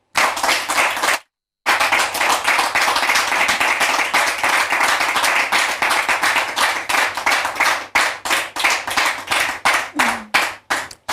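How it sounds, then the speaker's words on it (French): A church audience breaks into loud, sustained clapping to welcome two guests, a brief gap early on, then steady applause that thins into scattered individual claps toward the end, with no talking over it. "Merci de les recevoir sous vos applaudissements."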